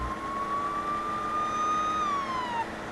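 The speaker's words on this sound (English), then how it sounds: "Alright, shut off our siren." A police car siren in the game Police Simulator: Patrol Officers wails in a single long, steady tone that bends downward as it winds off near the end, loud and close with traffic noise beneath.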